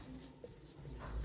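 Brief chalk or marker strokes on a board, faint and close, a quick scratchy scrawl lasting about a second with no voices.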